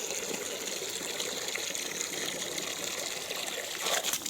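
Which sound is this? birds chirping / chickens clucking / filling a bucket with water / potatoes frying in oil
filling a bucket with water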